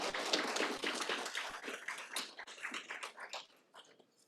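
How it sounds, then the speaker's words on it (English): An audience claps for students at an event on supporting student parents, a dense round of applause that starts full and thins out toward the end, heard at moderate distance without voices. "I wanted to get a round of applause for those students"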